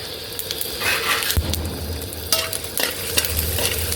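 Lentils, peanuts, sesame seeds and dried red chillies fry together in a pan for gongura pickle, a continuous dry crackling sizzle broken by sharp scraping stirs of a spatula, close and fairly loud.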